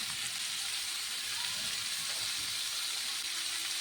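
Bitter gourd and potato fry in a pan with salt and turmeric, giving a steady, close, continuous sizzle and hiss throughout with no talking.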